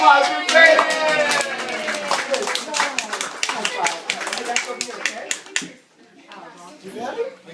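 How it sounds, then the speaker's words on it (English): A bubble show audience of children and adults breaks into lively applause for a young participant named Braden, fast clapping mixed with excited voices that fades out, then scattered light claps. "Round of applause for Braden!"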